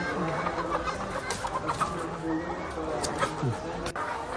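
Many layer hens cluck in a dense, continuous chorus inside a poultry farm in Langkat, North Sumatra, while people talk over the noise.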